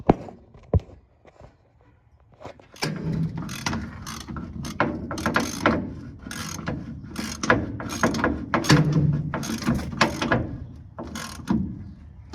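A ratchet clicks rapidly in repeated bursts while tightening nuts on the bed bolts of a 1969 Chevrolet C10 truck, close and loud with brief pauses between strokes.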